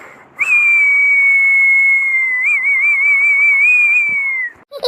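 A person whistles in a Pongal festival whistling contest, one long, loud, sustained mouth-whistle of about four seconds. It holds a steady pitch with a few wavering bends and stands alone without talk.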